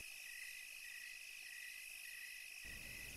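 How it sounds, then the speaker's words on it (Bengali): Crickets chirp at night in a steady, high, continuous trill, with a low rumble rising near the end. "বাইরে ঝিঝি পোকাদের ডাক ছাড়া আর কিছুই কানে আসছে না।"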